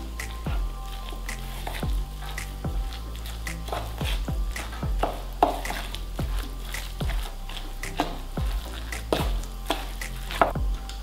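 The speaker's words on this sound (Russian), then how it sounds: "И опять же хорошенечко перемешиваю." Flour is stirred into a zucchini batter in a bowl, giving repeated soft wet squelches and scrapes at an irregular rhythm, close and moderately loud.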